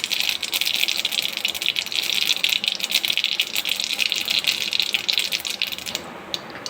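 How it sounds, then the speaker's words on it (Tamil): Mustard seeds splutter in hot oil in a kadai while tempering for ginger rasam, making a close, busy crackle of rapid pops that runs steadily and then thins out at the end. "கடுகு நல்லா பொரிய விடுங்க."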